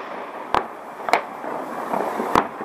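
Single New Year fireworks salvos bursting outdoors, three sharp separate cracks spaced apart over a steady background hum, fairly near and loud.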